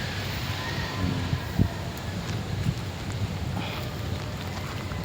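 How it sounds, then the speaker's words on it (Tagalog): Strong wind gusting through dancing leaves outdoors, a steady broadband rush with low rumbling buffets against the microphone and a few sharper gusts, continuous throughout. "Tingnan nyo yung mga dahon, no? Sumasayaw, ibig sabihin malakas yung hangin."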